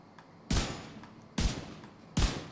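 Three sharp gunshots in Division 2 ring out at a steady pace, each a loud, close crack with a short decaying tail and no talking.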